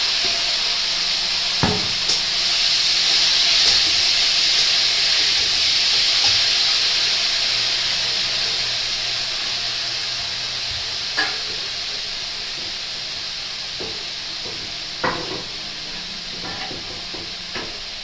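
Banana flower dropped into a hot pan with cumin sets off a loud, close, steady sizzle and steam hiss that slowly eases over the run, broken by a few sharp clicks and stirring knocks, with no voices.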